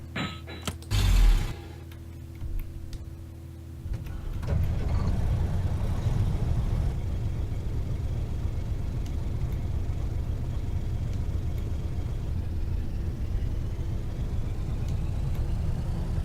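Heavy truck in the game Hard Truck 18 Wheels of Steel, a 730-horsepower rig with a 10-speed transmission, engine starting with a brief loud clunk, then idling and running as a steady low rumble.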